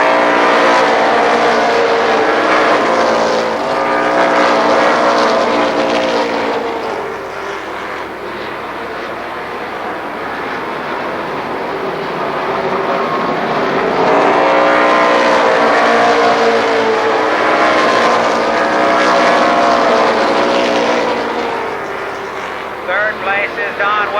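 ARCA Pro 4 race cars roar around Columbus Motor Speedway, engines swelling and fading as the pack passes in loud, sustained waves, with a race announcer calling positions over the track noise.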